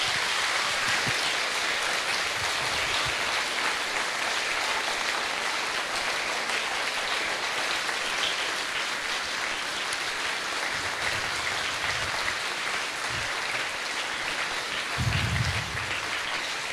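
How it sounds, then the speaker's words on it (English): At a school event linked to an amateur radio contact with the International Space Station, an audience gives a long, dense round of applause that holds steady throughout, with occasional low thumps beneath it. "Can we give all the team who've been involved in this a huge round of applause"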